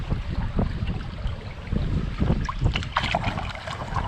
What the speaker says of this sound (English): the wind is still blowing